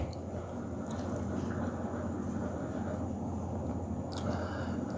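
Water is poured gradually into a pot of phaliyan gosht, a bean and meat curry, making a soft, continuous splashing and trickling under a low steady background hum, with a couple of faint clinks.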